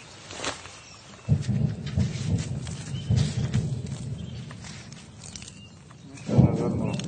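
Rocket artillery shelling on a front line, with low distant booms rolling in separate thuds and rumbles that swell and fade several times over a quiet background.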